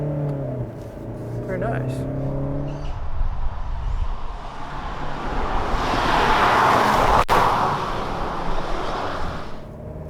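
A Hyundai Palisade Calligraphy pulls away smoothly in first gear, a steady engine hum and road noise swelling inside the cabin after a brief spoken remark.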